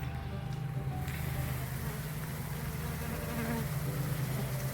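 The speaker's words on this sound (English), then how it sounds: "then we're going to do the famous Danielot bee dump right here" Package of honeybees dumped into a hive, a dense steady swarm buzz close by, continuous and fairly soft.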